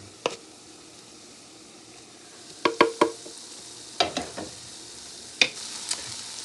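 Cheesesteak meat simmering in a pan after its liquid has cooked down, a soft steady sizzle broken by several sharp clinks and scrapes of a utensil stirring against the pan, close by with no talking.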